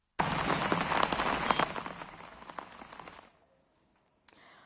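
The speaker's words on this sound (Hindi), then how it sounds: "और जैसे लगातार कल से बारिश जारी है" Steady broadband rain hiss with dense patter across the first three seconds, then fading out into near silence, with a short burst of the same hiss at the very end, during continuous rainfall in Haryana.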